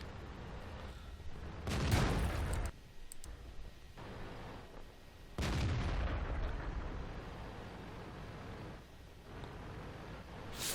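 Heavy tank cannon blasts boom out in World of Tanks on the Erlenberg map, two big shots a few seconds apart with rumbling decay and fainter clatter between.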